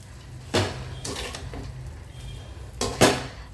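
Avalakki (poha) and onion are mixed in a pan, with a spoon or spatula knocking and scraping against the metal in a few loud clanks and softer rattles between them.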